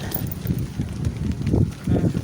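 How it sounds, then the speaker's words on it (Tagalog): Strong gusting wind buffets the microphone outdoors during a tilapia fishing trip in rainy weather, low rumbling bursts rising and falling in uneven waves. "Malakas yung hangin."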